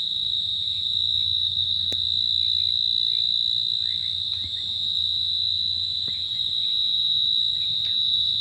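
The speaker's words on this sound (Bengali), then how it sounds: "আপনারা নিশ্চয়ই ঝিঝি পোকার ডাক শুনতে পাচ্ছেন।" Crickets chirping in a forest during the day, a loud continuous high-pitched trill that holds steady throughout, with a few faint clicks and a low background hum beneath.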